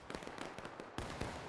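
Rapid crackling pops of musket fire in the Civil War game War of Rights, a string of sharp shots at uneven intervals, fairly faint and distant-sounding.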